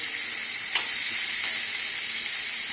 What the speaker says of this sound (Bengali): তাই এখানে যাই হোক পেঁয়াজগুলো দিয়ে দিলাম, পেঁয়াজগুলো ভাজা হতে থাক।